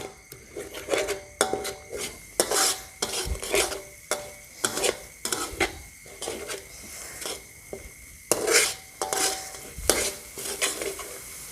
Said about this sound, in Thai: หยอดกะทิทีละน้อย แล้วก็ผัดไป จะทำให้น้ำพริกฟูค่ะ